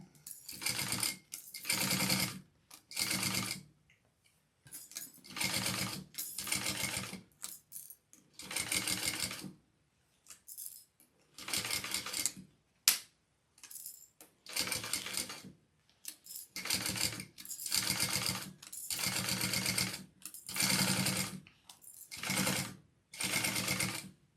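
A sewing machine stitches a piping seam on a handbag in repeated loud bursts of rapid mechanical clatter, each run a second or two long and separated by short pauses, with no talking.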